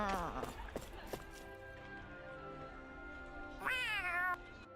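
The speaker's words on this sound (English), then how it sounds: "That's a cat, Hoodle." A cat in a video game gives a clear, rising meow near the end, preceded by a few sharp clicks and brief tones over a quiet background hum.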